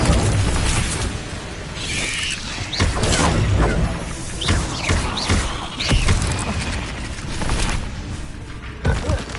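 Incendio fire spell cast in Hogwarts Legacy, a loud blaze of bursts, booms and crackling magic effects that runs on without a break, with game sounds layered throughout.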